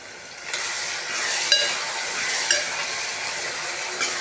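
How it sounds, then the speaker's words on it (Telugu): Chili powder and coriander powder fry in hot oil with a continuous bright sizzle, broken by a few sharp taps of a stirring spoon against the pan about once a second. "ఇలా నూనెలోనే ఫ్రై చేసుకోవాలి."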